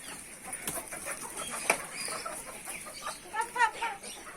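Chickens at a farm sanctuary clucking in a busy, close flock, with short harmonic calls rising toward the end over a constant rustle, and a voice talking faintly beneath.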